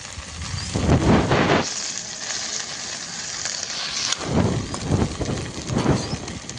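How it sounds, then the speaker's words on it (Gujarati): Fenugreek greens are sautéed in a pan over a high flame, giving a steady hissing sizzle that swells in several louder bursts as the greens are stirred. "આ ભાજીને આપણે 1 થી 2 મિનિટ સુધી આવી રીતે ફાસ્ટ ફ્લેમ પર સાતળવાની છે"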